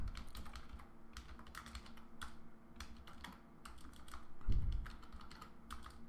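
Steady typing on a computer keyboard, a close run of quick key clicks with irregular rhythm and short pauses, heard alone without talk.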